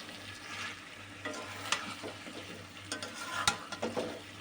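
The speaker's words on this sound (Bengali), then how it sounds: "এখন আমি মাংসগুলোর উপর দিয়ে আবার আলুগুলোকে কষিয়ে নেব এই তেলটার মধ্যেই।" Potatoes and chicken frying in oil in a pan, with a faint steady sizzle broken by several short scraping stirs and clinks of a utensil.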